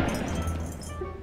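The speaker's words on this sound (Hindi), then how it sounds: "ओके वास गिर गया" A vase falls and breaks in the Granny 3 horror game, a short glassy clink and shatter over a steady low game hum, with light ringing tones trailing after.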